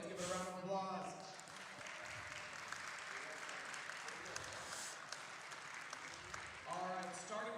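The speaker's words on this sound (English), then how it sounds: "Welcome everyone to the second day of the Spring NSeSA State Tournament. Let's give it a round of applause." A modest crowd claps at the spring state esports championship, scattered applause between stretches of an announcer's voice at the start and end.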